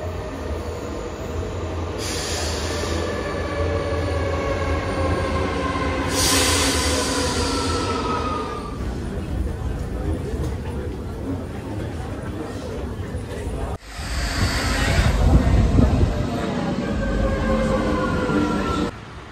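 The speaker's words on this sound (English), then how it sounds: "First time taking the train or tube or metro here in Rome." A metro train in Rome runs loudly from inside the car, with a sustained rumble, rising and falling wheel squeals, and a sharp jolt partway through; people can be heard talking faintly.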